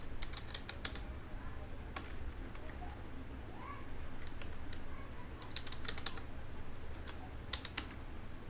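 Soft clicking keystrokes on a computer keyboard as C++ code is typed, in irregular bursts of taps over a low steady hum, close and fairly quiet, no talking.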